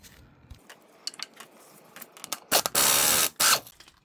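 A small socket on a ratchet works a stuck part off a Honda: scattered metallic clicks and taps, then a few sharp ratcheting bursts and a short loud whirring burst near the end, close by, with no talking.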